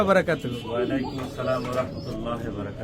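Pigeons coo in low, rolling calls close by, repeating softly while someone talks over them.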